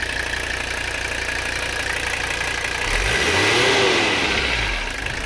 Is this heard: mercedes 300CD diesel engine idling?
yes